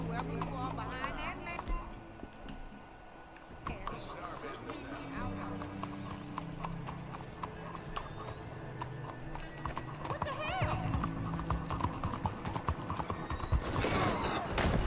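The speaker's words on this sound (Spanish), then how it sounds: "Tengo el caballo aquí. Corre, caballo." A horse gallops in a video game with rapid rhythmic hoofbeat clip-clop and occasional whinnies, mixed with game sounds and a voice talking over it.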